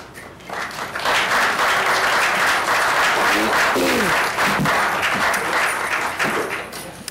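Loud, sustained audience applause fills a council meeting chamber for several seconds, dense clapping swelling quickly and then holding steady, with a few voices faintly audible underneath.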